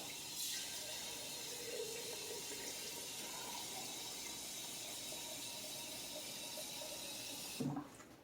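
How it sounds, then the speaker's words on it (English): Water pours steadily into a pot from a tap, a continuous splashing flow that stops abruptly near the end. "Now we're going to put a little bit more water in here"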